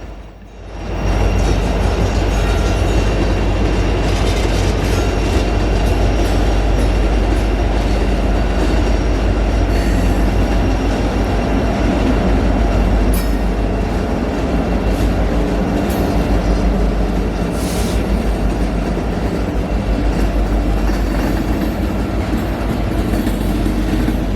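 A freight train rolls past on the Kingston branch line in Tennessee, a loud, continuous rumble of wheels and cars with faint rhythmic clatter that holds steady for over twenty seconds.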